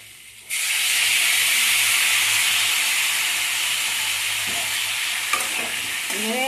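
A paste of mustard and poppy seed, soaked and ground, is stirred and fried in a pan for Bengali sukto. A loud, steady sizzle hisses throughout, with a few scraping stirs near the end.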